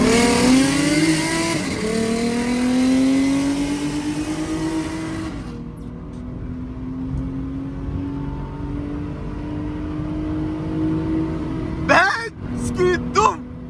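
Straight-piped Toyota 2GR V6 car engine revs with a rising, sustained drone that settles into a steady tone, a few sharp bursts near the end, with voices talking over it at a track night.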